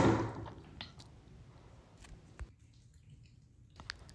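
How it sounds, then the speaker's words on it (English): Water splashes and drips as a face mask is rinsed off, starting with a louder splash and then giving way to soft scattered drips and wet squishes close by. "I'm back in here washing the mask off my face"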